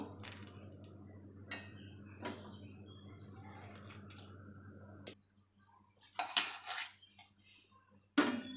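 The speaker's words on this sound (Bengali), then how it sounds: "এবারে বেলের ভিতরে শাঁসগুলো বার করে নেব, নিয়ে জারের মধ্যে দিয়ে দেবো।" Bael fruit pulp scooped out and dropped into a blender jar, with scattered clinks and scrapes of a spoon against the container, separated by quiet gaps.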